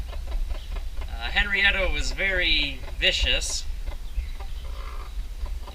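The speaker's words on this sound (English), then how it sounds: "Hedwig's just clucking and enjoying the ride" A calm hen clucks while being carried to a new spot, her soft clucks running under a person talking nearby.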